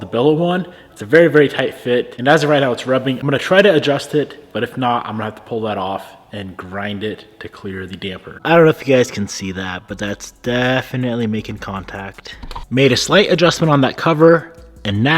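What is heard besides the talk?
None of the usual background noises is heard.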